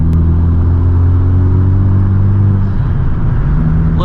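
A Honda Civic Type R's turbocharged engine pulls under boost, a loud close rumbling drone with steady low harmonics that dips briefly before settling back.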